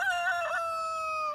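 A rooster crows once, close and loud, in a single drawn-out cock-a-doodle-doo that holds steady and then fades out.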